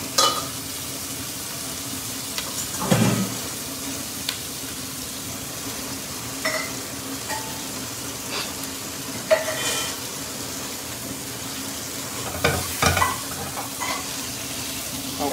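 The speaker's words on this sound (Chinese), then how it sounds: "虾就丢下去啊" Prawns fry in a wok with garlic and ginger slices, a steady close sizzle broken by several bursts of scraping and tossing, with no voices.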